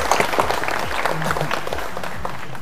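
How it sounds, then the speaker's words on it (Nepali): A studio audience at a Bible quiz show breaks into steady, dense applause, many hands clapping together continuously throughout. "ताली बजाएर"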